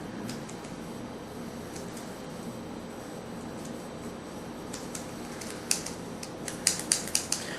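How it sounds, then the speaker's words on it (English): A small metal cigar cutter clicks several times while trimming a cigar, a short run of sharp, close clicks near the end, heard over a steady low room hum with no talk. "you probably heard all that clicking and assumed I was taking a ton off the cigar"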